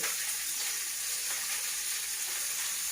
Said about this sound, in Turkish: Ama yine ben biraz kızartacağım.